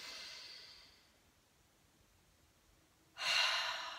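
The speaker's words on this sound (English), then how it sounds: "just take a nice deep breath" A single deep breath drawn in during a guided breathing exercise, soft airy inhale fading out, a quiet pause, then a sudden louder breathy exhale close to the mic.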